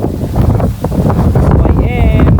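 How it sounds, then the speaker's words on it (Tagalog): Strong wind buffets the microphone during a trail ride on an XRM Fi motorcycle up Mt. Ugo, a loud, rough roar. A voice speaks over it briefly. "Ayan, lakas ng hangin."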